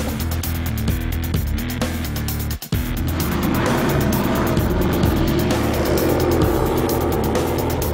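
Drag race cars of about 500 horsepower roar loudly as they accelerate, a sustained harsh engine blast with a brief sharp dropout midway before the noise surges back even rougher and broader.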